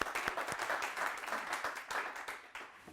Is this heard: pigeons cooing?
no